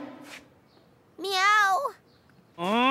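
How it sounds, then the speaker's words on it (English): Cartoon cat meows three times on voiced, wavering tones, close and fairly loud, with short quiet gaps between the calls. "Meow."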